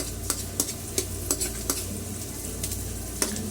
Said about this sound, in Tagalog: gisa lang po natin ng maigi ang sibuyas at bawang sa mantika at margarine